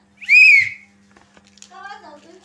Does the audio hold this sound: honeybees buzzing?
no